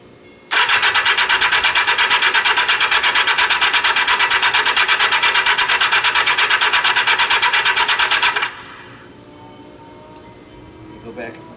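A 1979 Yamaha XS1100 F motorcycle with dry carburetors cranks for its first start, a loud steady rattling buzz running about eight seconds before cutting off to a quiet background hum.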